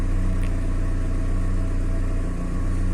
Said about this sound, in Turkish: Aracı çalıştırdık, evet.